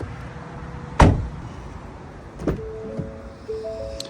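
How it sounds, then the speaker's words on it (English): Ford Maverick hybrid cabin with a sharp thump followed by brief electric whirs and clicks of power windows and door lock actuators, close and fairly quiet, with no one talking. "Power windows, power door locks"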